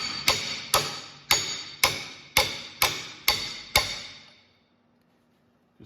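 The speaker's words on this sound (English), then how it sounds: "I'm going to use a hammer to tap on the back of the breaker bar just to get it a little bit tighter." A hammer strikes the back of a breaker bar eight times in steady, evenly spaced metallic taps, each ringing briefly, while tightening during a John Deere 720 clutch install, then silence follows.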